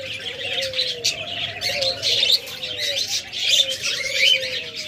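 A caged pair of pure lovebirds chirps busily up close, a dense stream of overlapping shrill tweets and warbling calls with no voices.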